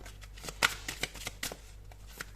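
Tarot cards are shuffled and drawn during a reading, giving a quick run of soft riffling flicks and slaps close by, with a few sharper snaps among them.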